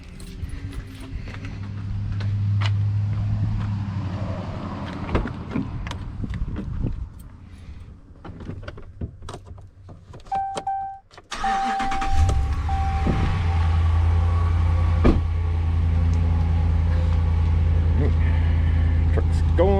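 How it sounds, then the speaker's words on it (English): A truck fitted with a camper: keys jangle and shuffle, then the engine cranks and catches midway, settling into a steady, rumbling idle that runs to the end, with a person talking nearby. "So let's start the truck up and we'll see if it'll start."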